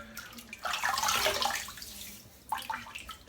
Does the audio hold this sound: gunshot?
no